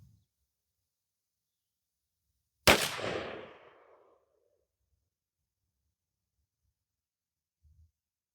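A single loud, close blast from a Mossberg 835 shotgun firing a 3-inch Winchester Longbeard XR 12-gauge shell with 1-7/8 oz of #5 shot, its boom trailing off over about a second into otherwise quiet outdoor air.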